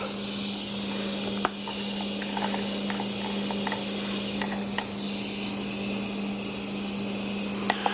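Steady compressed-air hiss escaping from a gasket at a nut on a truck, continuous and fairly close, with a low hum underneath and a few faint clicks.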